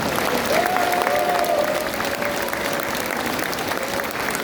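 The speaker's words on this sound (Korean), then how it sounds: "우리로 찬축의 박수를 보내주시기 바랍니다." A large political rally crowd applauds and cheers steadily in a thanksgiving ovation, a dense continuous roar of clapping with a faint tonal whistle or voice rising through it.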